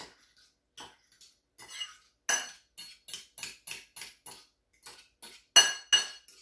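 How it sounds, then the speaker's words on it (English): A spoon or whisk clinks and scrapes against a bowl in a series of short, irregular strokes while buttermilk is stirred in, close and fairly clear with no talking. "And here's my buttermilk, which is gorgeous. So just mix that."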